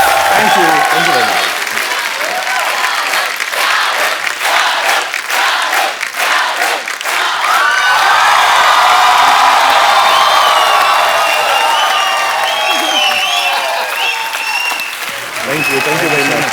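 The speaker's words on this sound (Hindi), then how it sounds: "जोरदार तालियां एक बार शाहरुख भाई और आलिया भट्ट के लिए।" A television comedy studio audience gives Shah Rukh Khan and Alia Bhatt loud, sustained applause, with whoops and cheers rising through the dense clapping and voices calling out over it.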